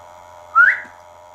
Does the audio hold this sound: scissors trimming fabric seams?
no